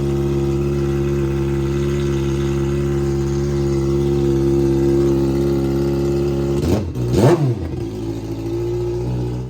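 A Kawasaki Ninja ZX6R with a gutted, cat-deleted exhaust idles loudly and steadily close by, then gets two sharp revs that rise and fall before it settles back to a rough idle.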